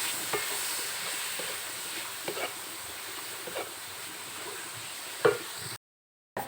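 Rice anchovies (teri nasi) stir-fried in a pan, with a faint steady sizzle and occasional soft scrapes of a spatula, then a brief drop to silence near the end.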